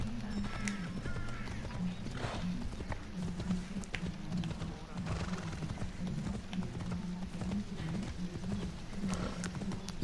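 Horse hooves gallop in Assassin's Creed Odyssey, a steady rapid clip-clop rhythm running throughout at moderate volume, with a brief whinny and faint game ambience around it.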